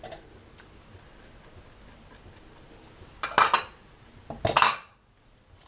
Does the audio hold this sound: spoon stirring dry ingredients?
yes